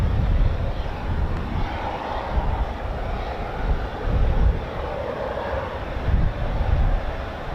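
CV-22 Osprey tiltrotor engines run at an air base, a continuous rough turbine and rotor roar that swells and fades slightly, heard from a distance.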